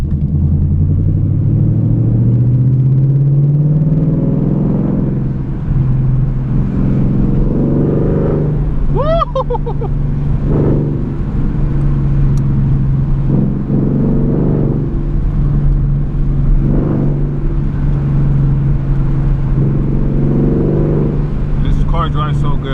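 A 2020 Ford Mustang 5.0 with a muffler delete and a manual gearbox is driven at night, its loud, steady low engine drone rumbling continuously beneath someone talking.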